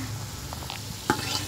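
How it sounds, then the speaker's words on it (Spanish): Macaroni elbows sauté in a pan with butter, giving a continuous close sizzle and the occasional soft scrape of stirring. No voices are heard. "vamos a sofreír los coditos"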